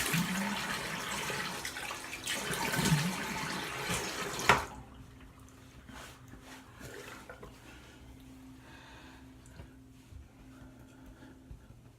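Running tap water pours and splashes for about four and a half seconds while something is rinsed during a detailing wash, then cuts off, leaving a faint room hum with a few soft knocks.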